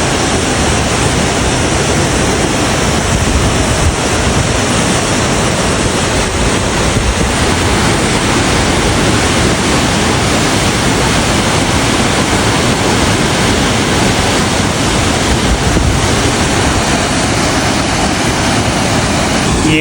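The Serra Morena waterfall in Serra do Cipó pounds at full rainy-season force as a loud, unbroken roar of falling water with a dense, hissing spray close by. No voices are heard over it.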